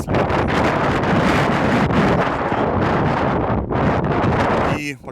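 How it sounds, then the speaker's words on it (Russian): Strong seaside wind in Alanya buffets the microphone in loud, continuous roaring gusts, with a brief lull near the end. "давно такого ветра не было"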